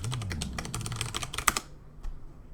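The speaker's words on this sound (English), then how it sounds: "Can you see me typing right now?" Rapid bursts of keystrokes on a computer keyboard, close and fairly loud, clattering in quick uneven runs for about a second and a half before trailing off into a couple of isolated taps.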